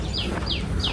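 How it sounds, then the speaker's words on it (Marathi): Morning birdsong in a forest near a hill fort, with three clear descending chirps repeating at a steady pace over a steady background hiss. "आता सकाळची वेळ आहे त्यामुळं पक्ष्यांचा किलबिलाट आहे"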